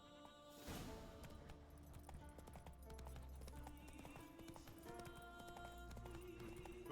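Hooves clip-clop at a steady gallop in The Witcher 3 over a busy bed of music and game sound effects.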